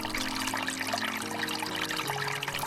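At Sofiyivka park in Uman, spring water fills a snake-decorated bronze half-bowl and runs over its rim into an underground granite channel, an even, continuous close-up trickle and splash heard alone.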